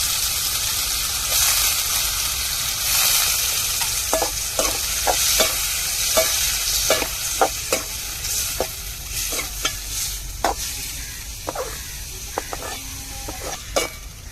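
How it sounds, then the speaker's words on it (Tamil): Freshly peeled white prawns stir-fry in a hot pan with a steady, close sizzle, broken by a series of sharp spatula scrapes and clicks at an irregular rhythm, with no voices. "இப்போ நம்ம ஃப்ரெஷ்ஷாக உரிச்சு வச்ச இறாலை சேர்த்துக்குருவோம் வெள்ளை இறால்"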